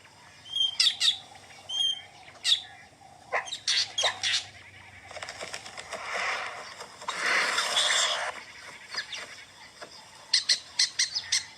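A drongo calls repeatedly in the open, sounding bursts of sharp chirps and squawky notes, with a rougher, noisier stretch of calling in the middle before crisp chirps return at the end; no voices.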